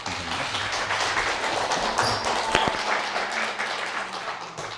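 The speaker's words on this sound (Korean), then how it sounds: "목사님께 하나님께 감사의 박수 한번 보내십시다." A congregation applauds during a Korean church service, a sustained round of clapping from many hands with a few sharper claps standing out, close and fairly loud.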